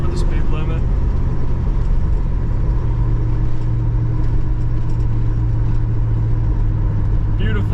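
A 1979 Pontiac Trans Am 10th Anniversary, back on the road after sitting for 30 years, cruises at low RPM with a steady, heavy low engine rumble inside the cabin as someone talks over it.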